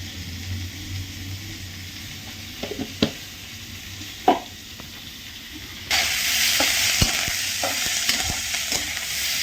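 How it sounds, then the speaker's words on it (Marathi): Green chilies roasting in oil in a pan with peanuts and cumin: a fairly quiet fry with a few spoon knocks, then a sudden loud, bright hissing sizzle that holds steadily to the end. "आपण आता मिरच्या भाजून घ्यायचा"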